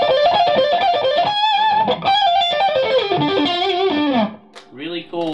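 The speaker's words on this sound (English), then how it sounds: "we'll put some distortion on it and play it" A distorted electric guitar plays a mean-sounding blues phrase built around a tritone, the notes bending and sliding for about four seconds before a brief pause and a few short trailing notes, loud and alone.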